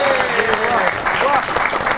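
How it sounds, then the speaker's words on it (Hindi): Studio audience applause greeting a guest on a Pakistani comedy talk show, a dense continuous clapping wash filling the moment alongside a voice. "आपकी बहुत सी तालियों में"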